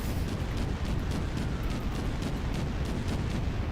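Fireworks bursting in GTA roleplay, a continuous dense barrage of booms and pops filling the clip at steady loudness, with no clear talk over it.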